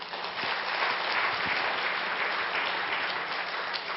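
A church congregation claps continuously during a praise service, a dense, even wash of applause at moderate distance with no break.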